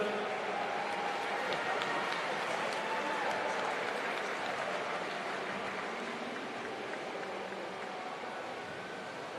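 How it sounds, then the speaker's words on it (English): Audience applause fills an indoor pool at the New Zealand Swimming Championships finals, a sustained dense clapping from a large crowd lasting several seconds and tapering slightly at the end. "Give them a big round of applause"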